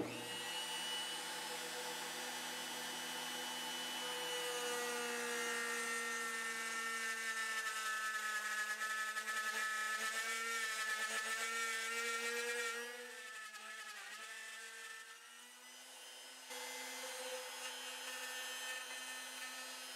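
A router on a router sled cuts into the wood of an Epiphone Les Paul guitar neck, making a loud, high, steady whine. Near the end the pitch dips and wavers as the bit bites, with no voices.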